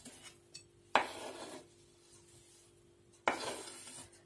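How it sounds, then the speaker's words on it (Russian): Chopped onion added to a potato-free vinaigrette salad in a bowl: two distinct clinks of a utensil against the bowl, each followed by a short scraping rustle of stirring, fairly quiet and with no talk. "Ну и добавляем последний ингредиент, наш лучок."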